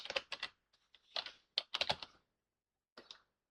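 Quick bursts of typing on a computer keyboard, with clustered clicks separated by short pauses. The keys sound close, clear and fairly quiet, with no talking.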